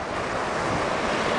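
Atlantic Ocean surf on the Maryland shore on New Year's Day, a steady loud roar of breaking waves with wind buffeting the microphone and no voices.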